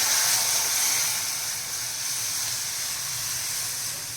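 Milk hits a hot pan of ghee-roasted dry fruits with a loud, steady steam hiss that fades slightly but holds throughout, no voices.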